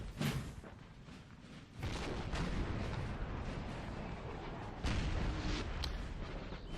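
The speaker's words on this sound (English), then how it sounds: "they're going to come under heavy artillery fire" Heavy artillery in a Napoleonic-era strategy battle game booms in a dense, continuous rolling barrage of overlapping blasts, loud and broad, with stronger bursts rising at intervals.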